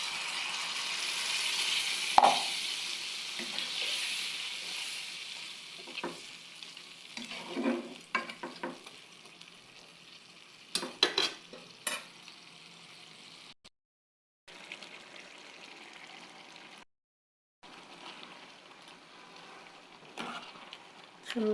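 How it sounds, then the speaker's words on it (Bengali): Prawn heads simmering in a pan of curry, stirred with a spoon, giving soft sizzling and intermittent scraping with a few louder clanks and brief gaps of near silence. "সুন্দর করে নেড়ে চেড়ে মিশিয়ে দেবো সেই ভাজা গিলু দিয়ে।"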